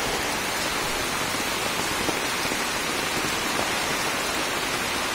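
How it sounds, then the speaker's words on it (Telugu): Heavy monsoon rain pours steadily in a forest, a dense, even hiss of water hitting leaves and ground with no letup, loud and close all around. "వర్షం బాగా ఎక్కువైంది."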